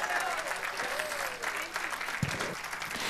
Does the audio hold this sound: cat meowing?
no